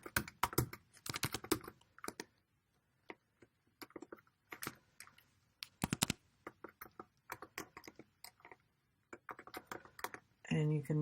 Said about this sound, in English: I will go ahead and type this